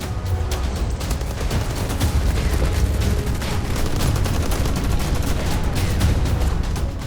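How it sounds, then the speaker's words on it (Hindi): Heavy, sustained gunfire in a village at Klishchiivka near Bakhmut, Ukraine, with Russian troops firing in rapid bursts, dense overlapping shots and booms continuing loudly for the whole stretch with no speech. "ताबड़तोड़ फायरिंग का यह वीडियो बाखमुट के क्लिशिव्का का है"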